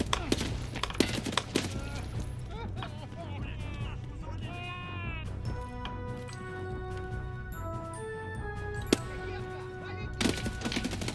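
Light machine gun fire in Escape from Tarkov, with bursts of sharp gunshots among game sound effects and tonal chimes, while a voice speaks over part of it.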